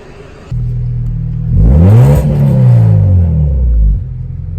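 A Honda Civic EK with a red B16A engine and VTEC revs up close and loud after an idle, the pitch sweeping up and falling back in a strong rumbling surge before settling back to idle.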